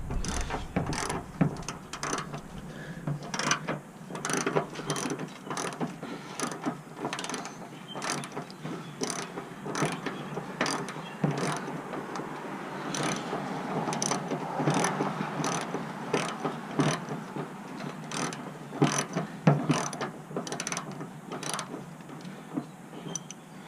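A ratchet clicks rapidly in repeated bursts while loosening a long 10 mm headlight screw on a 2008 Pontiac G6 during headlamp replacement, the close, crisp pawl ticks continuing steadily with no talking.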